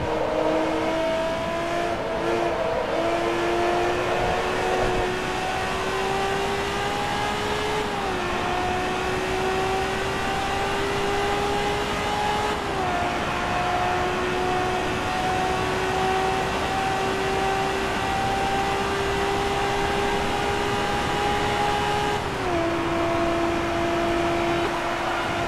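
A Ferrari engine in Forza Motorsport 2 drones steadily at high revs, its pitch climbing slowly and dropping with each gear shift, loud and continuous throughout with no voices.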